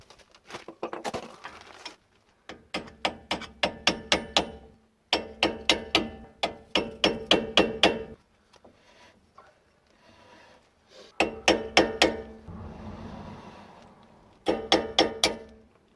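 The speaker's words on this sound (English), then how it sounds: "a little bit of tap from a hammer and they should be good." Repeated bursts of sharp hammer taps as a 10mm wheel spacer is seated onto the hub of a turbocharged Honda Civic EL, struck in quick clusters of several blows with brief pauses between groups, close and fairly loud.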